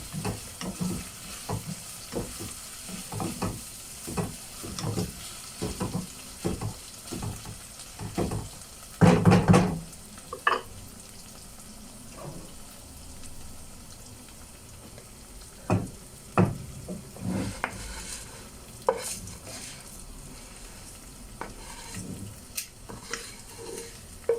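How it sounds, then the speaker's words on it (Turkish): Kavurma pilaf stirred in a sizzling pan, with a steady frying hiss under repeated scraping strokes of the spoon and a brief louder clatter partway through, close and with no talking. "Şöyle biraz karıştırıyorum."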